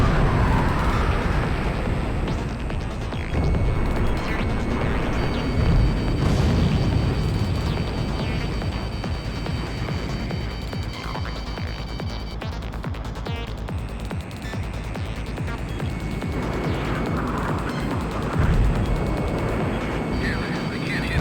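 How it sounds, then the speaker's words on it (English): Missiles streak and detonate in the combat flight game Ace Combat X, with dense roaring jet noise and repeated booming explosions running continuously, loud and close throughout. "Those missiles are very persistent."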